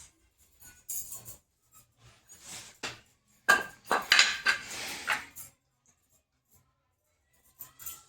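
Raw chicken being chopped into small pieces for a village-style Marathi chicken curry, with bursts of knife and utensil clatter against a plate or pan, irregular clinks and scrapes at close range, separated by quiet pauses.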